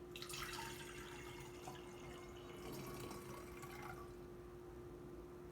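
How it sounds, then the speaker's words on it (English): Liquid pours through a funnel into a bottle, making a steady close-up trickling and splashing stream that runs for several seconds before thinning out near the end, with no talking. "I'm going to use my funnel, pour it into our bottle. I'm using the funnel so it doesn't splash."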